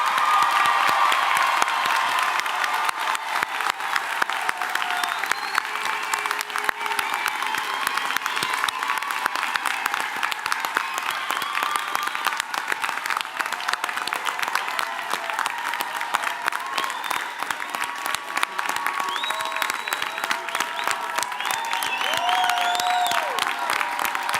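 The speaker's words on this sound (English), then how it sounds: "Let's all have a round of applause for our new graduates." An audience at a graduation commencement ceremony applauds its new graduates with sustained, dense clapping and scattered cheers. The applause stays steady and fairly loud for the whole stretch.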